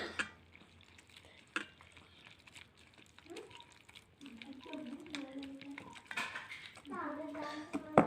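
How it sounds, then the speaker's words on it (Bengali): Egg, flour and water batter is mixed in a bowl with a utensil, giving scattered clinks and scraping knocks against the bowl, while a child and an adult talk nearby. "এবার আমি জল দিয়ে দিচ্ছি দিয়ে এটা ভালো করে এটাকে মাখিয়ে নেবে"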